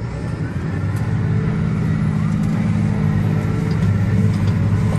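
A Case IH 300 horsepower tractor engine revs up under the foot throttle, giving a loud, steady low drone that holds its level throughout the whole stretch.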